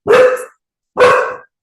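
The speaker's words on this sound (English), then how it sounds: "I'm so sorry about the barking." A dog barks twice, loud and close, each bark about half a second long with a short pause between them.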